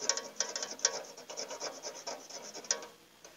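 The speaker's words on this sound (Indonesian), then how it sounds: "ini amplas atau kerik pakai gergaji" A saw blade scrapes and sands a copper pipe to open an entry for a capillary tube, giving dry, rasping strokes in an uneven rhythm, close and moderately loud, alone without talk.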